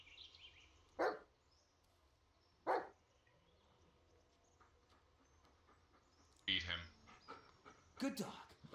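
Dog in the video game Blair Witch giving short barks: two sharp isolated barks a couple of seconds apart, then a louder burst of barking and panting near the end, over a quiet ambient game background.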